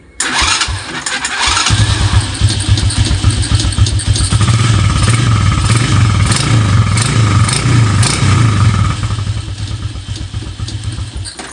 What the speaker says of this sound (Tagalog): Kapag ka naka-on naman, aandar yung motor natin.